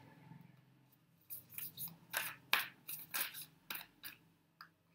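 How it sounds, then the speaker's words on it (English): Tarot cards being shuffled by hand, a run of soft riffling and slapping bursts in an irregular rhythm, quiet and close with no talking. "I'll just shuffle the cards."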